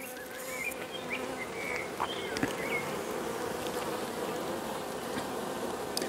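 Honeybees drone steadily around an open hive during oxalic acid and glycerin strip treatment, a dense continuous buzz with individual bees zipping past close by, no talking.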